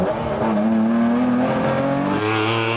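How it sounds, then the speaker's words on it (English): A TVR sports car engine revs hard and climbs through the gears, loud and close, with a sharp gear change near the end. "The sound is phenomenal, and there are plenty of other things to like about this TVR."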